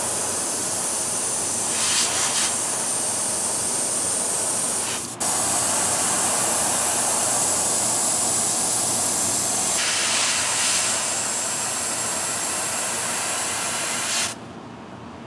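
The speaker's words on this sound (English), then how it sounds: "you really have to watch your overspray when you're doing this" Airbrush spraying white paint onto a fishing bait lure, a steady close hiss that runs almost continuously with one brief break, then cuts off at the end.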